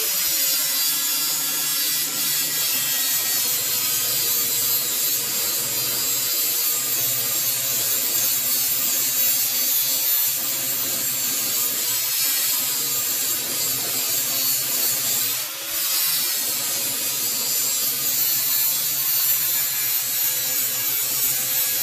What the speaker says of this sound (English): So we're going to do a little grinding with our flap wheel.